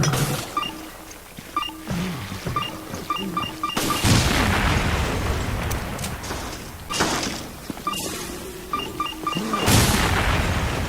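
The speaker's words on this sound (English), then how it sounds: "it produces quite a bit of an explosion and funny results" Decoy grenade in Resident Evil: Revelations going off near an ooze enemy, a sequence of loud booming blasts at roughly 4, 7 and 10 seconds over game ambience and rhythmic beeping tones.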